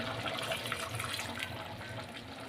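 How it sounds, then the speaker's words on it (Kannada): Water from a jar poured into a pot of boiling village-style mutton sambar, a continuous close gush of running, splashing liquid. "ಜಾರಲ್ಲಿರೋದೆಲ್ಲ ನೀರು ಹಾಕ್ತಾ ಇದ್ದೀವಿ"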